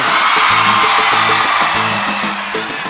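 Concert crowd at a forró show shouting and cheering, a dense loud roar of many voices with whoops rising over steady band music.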